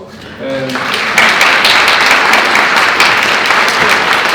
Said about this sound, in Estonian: Aitäh, Tanel Kiikile. Minult aplaus.